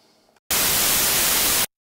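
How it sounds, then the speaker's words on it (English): A burst of loud, flat white-noise test signal lasting just over a second starts and stops abruptly, with near silence on either side. "it's just white noise, right?"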